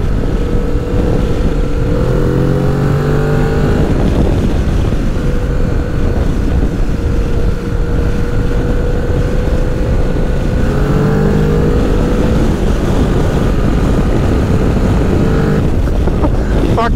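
Steady roaring wind rushes past a rider on a Kawasaki Z650 RS motorcycle. It is loud and close throughout, with the engine's hum running beneath it.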